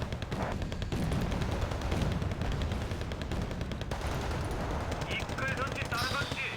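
Dense, continuous gunfire and explosions from the real-time strategy game Wargame Red Dragon, in a 2nd Korean War campaign mod. The noise forms a loud, unbroken battle din while someone talks over it.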